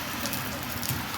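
Heavy rain in Saudi Arabia pours down as a dense, steady hiss of drops drumming on surfaces, close and continuous without pause.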